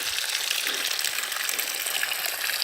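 Water gushing down through a line of connected bamboo pipes used to water a cucumber patch outdoors, a steady bright rushing flow heard close and continuous, with no talk.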